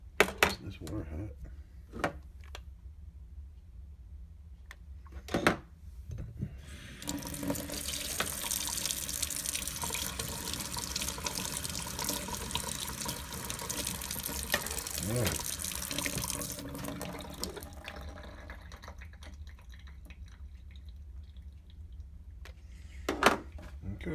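Hot water runs from a kitchen tap into a sink in a steady rush lasting several seconds, with dishes clinking and brief knocks before and after.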